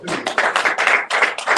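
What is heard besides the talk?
audience applause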